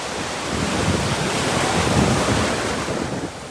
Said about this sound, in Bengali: সামনে ঢেউ আসছে।